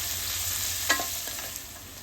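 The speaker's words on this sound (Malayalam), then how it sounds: "സവോളയുടെ കളറൊന്ന് മാറണ വരെ ഇളക്കണം." Onions fried in a pan for a cauliflower, green pea and potato curry, sizzling steadily while a utensil stirs them with a few scraping strokes, close and moderately loud, no talking.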